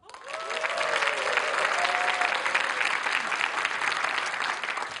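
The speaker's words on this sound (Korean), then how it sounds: "한 분 한 분 소개될 때마다 큰 박수 부탁드리겠습니다." A crowd applauds warmly as a panelist is introduced at a televised regional issues talk show in Seosan, steady full clapping that swells quickly and holds for several seconds with a faint voice underneath.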